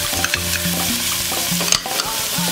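Garlic frying in a pan is stirred with a utensil, giving a steady bright sizzle broken by scraping strokes, close and loud with no talking.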